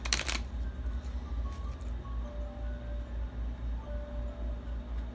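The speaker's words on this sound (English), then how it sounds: "I'll shuffle one more time." Tarot cards are shuffled in a quick, crisp riffle right at the start, followed by a low steady hum.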